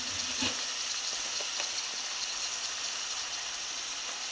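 Brinjal pieces frying in a pan for vankaya curry, a steady hissing sizzle with a few scattered clicks of a stirring spoon, close and continuous.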